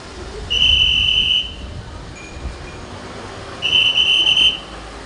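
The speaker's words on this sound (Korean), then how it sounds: "사진을 찍는 와중에도 호루라기로 단속을 알려줍니다." A warning whistle is blown during roadside traffic enforcement near a school zone, sounding as two sustained shrill blasts, each about a second long, fairly close and loud over steady outdoor background noise.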